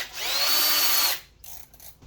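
A power drill spins a valve through a length of hose for valve lapping during a cylinder head rebuild, one loud, close whir of about a second followed by a quieter rattle as it winds down.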